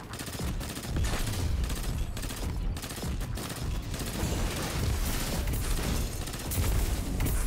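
Rapid, continuous firing from an exotic weapon in Destiny 2, loud and dense throughout with booming impacts layered into the barrage.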